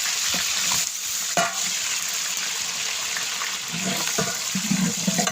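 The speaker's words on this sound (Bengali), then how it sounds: "তেল গরম হয়ে গেলে আপনারা কাঁচা জল দেবেন তারপরে পেঁয়াজ দেবেন" Onions frying in hot oil for a large six-kilo batch of lentil chakka, a steady loud sizzle and hiss running throughout with a few sharp clatters and bubbling bursts, no voices.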